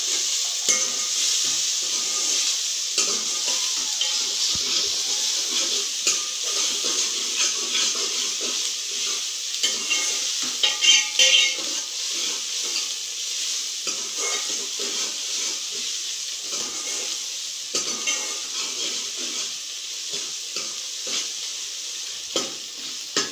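Onions, garlic, ginger and green chilies sizzle and fry in a pan in a village kitchen, a steady close hiss with occasional stirring scrapes throughout, no talking.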